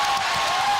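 Basketball gym crowd at a Pella Christian boys varsity game, a steady roar of cheering and shouting that holds at the same loud level for under a second, with no break in the noise.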